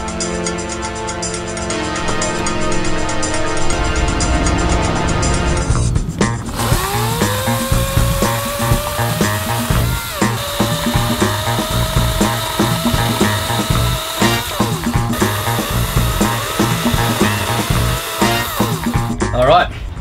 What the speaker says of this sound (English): Got to see the saw in action.